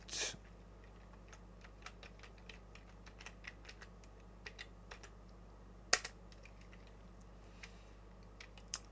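Commands being typed on a computer keyboard: quiet, irregular clicks of keys spread across the stretch, with one sharper keystroke midway and no talking.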